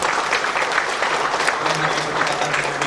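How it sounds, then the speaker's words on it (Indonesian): An audience applauds PKPU at a book launch, steady dense clapping from many hands throughout, with a voice faintly audible underneath. "Kita beri tepuk tangan."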